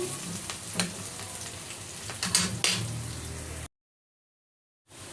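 Chopped onion and garlic sizzle steadily in hot oil while being browned for pork dinuguan, with a few sharp stirring clicks, then a short silent gap before the frying resumes.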